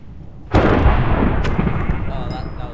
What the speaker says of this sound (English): I killed a sheep just as the thunder struck.